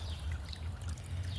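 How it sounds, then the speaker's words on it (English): Water from a small homemade wildlife bird bath fountain spout trickles steadily and softly, a gentle continuous flow with a low hum beneath it and no talking. "Just a little bit of movement of the water so it doesn't stay stagnant."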